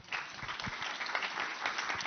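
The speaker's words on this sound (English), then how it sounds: "Je vous demande d'applaudir Wem." An audience at a Europe–Africa tech conference claps steadily through the whole moment, a dense, even patter of hands that stays at moderate volume and keeps going without a break.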